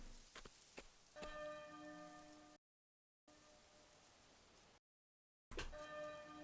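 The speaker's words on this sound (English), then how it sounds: "Ah, look. There's the bell again." Church bell in Octopath Traveler 2, several ringing strikes with sustained tones that linger over a rain-like hiss, broken by two short gaps of silence.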